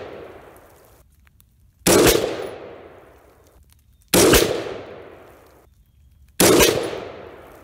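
A Palmetto State Armory 5.56 rifle with a chrome-lined FN barrel fires three loud, sharp shots about two seconds apart outdoors, each followed by a long decaying echo.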